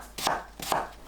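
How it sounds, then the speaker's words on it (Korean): Two crisp knife chops land on an onion on a cutting board about half a second apart, close and clear with nothing else audible. "양파를 믹서에 갈기 좋은 크기로 썰어주세요"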